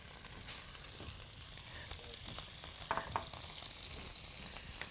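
Ground chicken sizzles and fries in a pan with onion and garlic, a steady soft crackle with a few brief stirring scrapes and knocks near the middle, fairly quiet and without talk.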